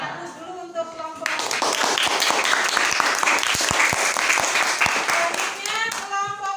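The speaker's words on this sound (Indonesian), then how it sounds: "Beri aplaus dulu untuk kelompok." Classroom group applauds a presenting group, a dense burst of many hands clapping that starts abruptly and holds steady for several seconds, with a voice talking before and after.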